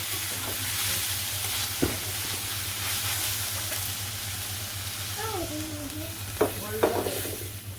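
Broth poured into a sizzling tomato masala and stirred, with a steady frying hiss over a low hum and a few sharp scraping clinks near the end; a faint voice is briefly heard.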